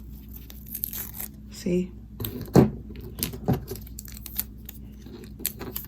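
Short rips of Scotch tape being pulled off a zipper while sewing, several quick tearing bursts spaced unevenly, with a person speaking briefly.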